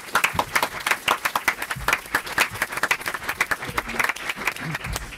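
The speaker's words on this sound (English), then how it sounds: "Can you clap?" A small crowd applauds steadily for several seconds, a dense patter of hand claps at moderate volume.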